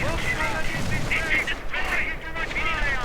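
Rapid cannon fire from an Ostwind anti-aircraft tank in a WWII strategy video game, steady and loud, blended with battle effects and running under continuous talk.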